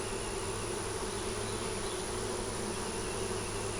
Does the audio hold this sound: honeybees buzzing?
yes